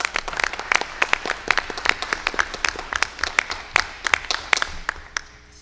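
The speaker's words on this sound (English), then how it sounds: "Let's give another round of applause." A school district meeting audience gives another round of applause: a thin, fairly small crowd of sharp, distinct claps in irregular bursts that thins out and fades near the end.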